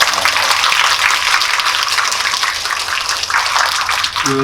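Dense, steady applause from a cinema audience at a movie talk event for a Korean action film, filling the space loudly and evenly throughout with a brief voice at the very end.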